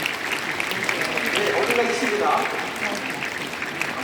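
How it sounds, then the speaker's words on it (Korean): Applause from a church conference audience thanking two guests from the Netherlands, a steady wash of clapping throughout under a voice speaking over it. "우리 감사의 마음을 한번 큰 박수로 한번 전해드리겠습니다"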